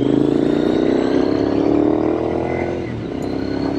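A 2006 Triumph Scrambler 900, a carbureted twin on Metzeler tires, pulls steadily under way with a continuous loud engine drone that eases slightly near the end, no voices.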